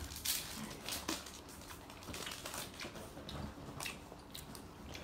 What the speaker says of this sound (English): I'll just be eating some cereal.